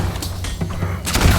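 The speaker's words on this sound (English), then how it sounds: "You're getting shot" Brief bursts of gunfire in Fable II crack through a short, busy moment, a few sharp shots landing over background game noise.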